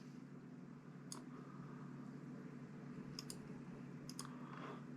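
A handful of faint, crisp computer mouse clicks during video editing stand out in a few quick pairs and singles over a steady low hum, with no talking.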